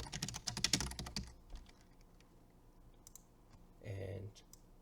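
Quick bursts of keystrokes on a computer keyboard, a rapid run of close taps followed by a few sparse clicks, with a short voice passage near the end.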